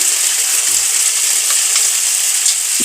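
Cumin and turmeric powder fry in hot oil in a pan, a loud, even, continuous sizzle with faint scattered crackles and no voices.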